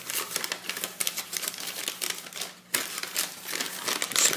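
Origami paper folded by hand, a dense run of close crisp crinkles and creases with a brief pause midway before the rustling resumes.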